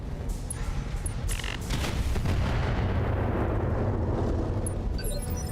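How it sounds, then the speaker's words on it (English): Airstrike explosions in a BattleTech game battle, a continuous heavy rumble of booming blasts and crackling impacts that rolls on steadily without pause, thick and loud throughout. "That's an airstrike on me!"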